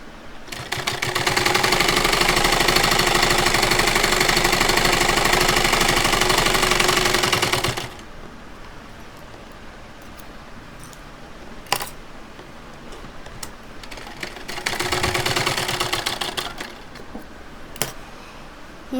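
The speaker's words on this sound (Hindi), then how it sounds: "लेकिन मैं सिर्फ सिलाई लगा रही हूँ सिर्फ" A sewing machine stitching a side pocket onto palazzo pants, running in a long steady rapid whir for several seconds, then a short second burst after a pause with small clicks of handling between.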